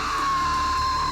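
A woman in a 1994 action movie gives a sustained, high-pitched scream, loud and unbroken for its full length.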